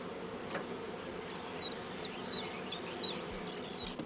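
Honeybees buzz steadily around a hive as a swarm box is installed, a faint continuous drone of many insects close by, alone without any talk.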